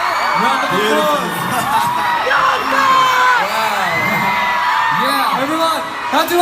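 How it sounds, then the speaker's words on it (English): A packed concert crowd in Houston, Texas screams and cheers loudly and continuously, with overlapping high whoops and yells filling the arena for the whole stretch. "Round of applause."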